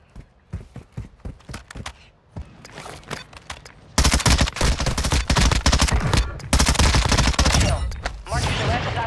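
Lachmann Shroud submachine gun firing in Warzone 2: a string of spaced single shots gives way to long, loud, dense automatic bursts with rapid rattling rhythm and short pauses.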